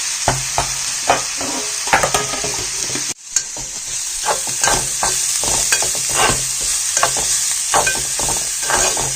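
Turmeric and spicy masala stirred and sautéed in a pan for a wet cashew nut vegetable dish, with steady sizzling frying under repeated scraping stir strokes and a brief pause partway through.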